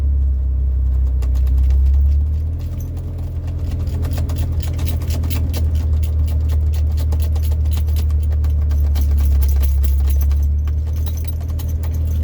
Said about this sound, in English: But the truck's running right now.